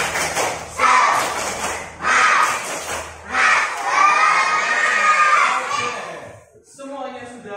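Elementary pupils in an Indonesian classroom doing a spirit clap from their seats: rhythmic bursts of clapping mixed with loud group chanting and shouting, ending with a teacher's voice.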